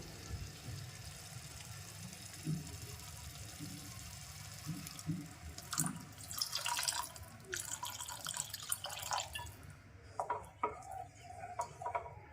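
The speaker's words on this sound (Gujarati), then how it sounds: "હવે અહીંયા આપણે રસાવાળું શાક બનાવવાનું છે એટલે એની અંદર પાણી ઉમેરીશું" Water is poured into a pot of simmering vegetable curry to make a thin gravy, a splashing pour rising partway through over quiet kitchen background, followed by light clinks of a utensil against the pot.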